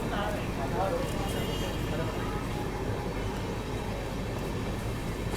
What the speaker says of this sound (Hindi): रफीगंज रेलवे स्टेशन से अपनी ट्रेन निकल रही है।